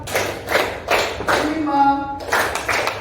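A class claps hands together in a rhythmic pattern, with short bursts of claps repeating at an even pace. A voice fills a brief pause before the clapping resumes.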